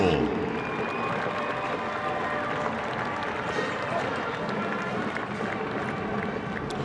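Fans in a high school state championship venue applauding the Division VI state runners-up, a continuous wash of clapping and crowd noise with tonal squeaks and faint voices underneath.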